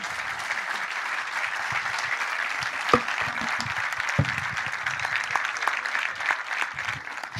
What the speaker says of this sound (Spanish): Puedo pedir un nuevo aplauso para Carlota, por favor